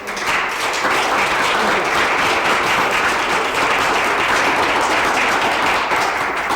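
Audience applause at a 1985 photography talk at the Copyright Office, a steady, dense wash of many hands clapping throughout, fairly loud and continuous with no break.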